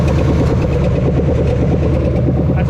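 A Chevy Nova V8 engine idling after 35 years of sitting, a loud, close, continuous lumpy rumble with a steady pulsing beat.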